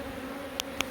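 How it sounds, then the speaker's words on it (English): Honey bees hum steadily around a queen clip during a rooftop hive relocation, a close, even buzz with two brief sharp clicks near the end. "the bees are congregating on the queen clip"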